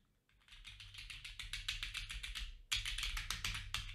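Quick, uneven keystrokes clatter on a computer keyboard close up, a dense run of taps that pauses briefly near the middle and then resumes just as fast.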